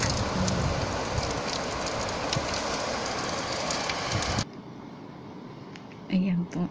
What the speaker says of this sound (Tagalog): sobra po talagang lakas ng ulan